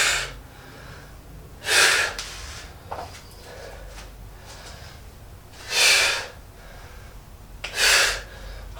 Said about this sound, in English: And you notice a difference in the breathing, in my breathing.